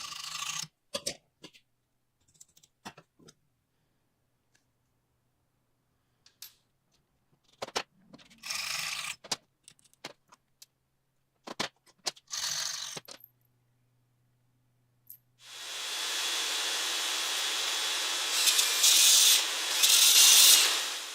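Short scraping strokes of a file rounding over the ends of metal pins come in scattered, close bursts separated by silences, followed by a longer, louder continuous rasping grind near the end.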